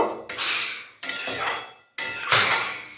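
Ghugni, a yellow pea curry, is sautéed in a pan: three loud, close scraping strokes, each starting sharply and fading away, separated by brief quiet gaps.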